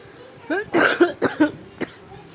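A few short, harsh coughs come in quick succession, close and moderately loud, with brief pauses and quiet between them.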